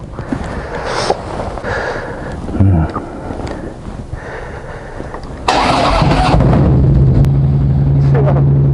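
A Harley-Davidson Fat Boy Special with a Supertrap variable exhaust rides along a road, its loud, deep engine rumbling steadily and swelling to a heavier drone midway, while someone talks over the noise close to the microphone.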